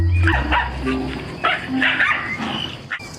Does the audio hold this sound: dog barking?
yes